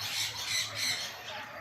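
Birds calling at Kothwalguda Eco Park near Hyderabad: a steady, moderately loud chorus of overlapping squawks and calls throughout, with no talk.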